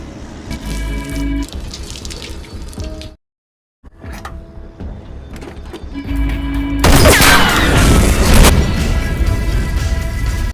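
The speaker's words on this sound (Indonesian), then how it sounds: "dia langsung menembak genangan bensin tersebut, yang menyebabkan mobil yang sedang ditumpangi Arthur meledak seketika." A gunshot ignites spilled gasoline and the car blows up in an action film: gunfire, a brief silence, then a loud rushing, roaring blast that swells and sustains under dramatic music.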